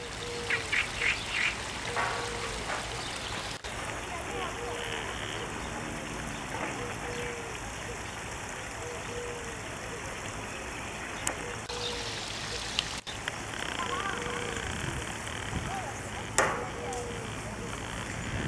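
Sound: water trickling in a garden stream

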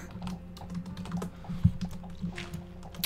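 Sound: typing on a computer keyboard

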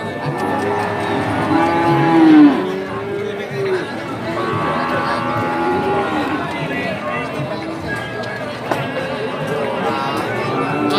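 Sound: bulls at a cattle market

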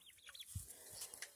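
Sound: chickens clucking, Black Rock roosters

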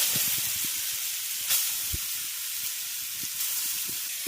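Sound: grated carrot added to hot ghee, sizzling

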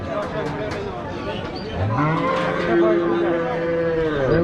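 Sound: cattle mooing at a livestock market

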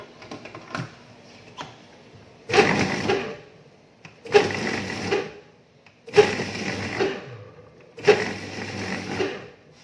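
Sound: blender coarsely grinding meat

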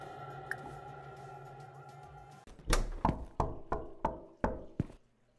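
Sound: knocking in a horror video game

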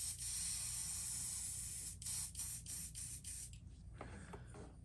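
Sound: paint spray gun spraying paint onto a fishing lure

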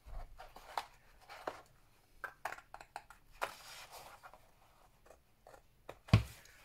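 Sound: cutting paper up to the score line

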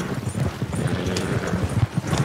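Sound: horse hooves clip-clopping in a video game

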